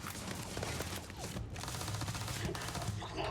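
Rapid pistol shots in the space game Starfield crack out in quick succession, loud and close, over a dense background of in-game noise with no talking.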